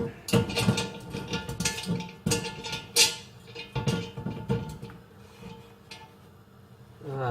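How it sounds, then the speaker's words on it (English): Old cast iron pot turned onto its side: several irregular metallic clanks and scraping knocks, close and moderately loud, with short pauses between them and no talk. "now I'm going to turn this pot on its side"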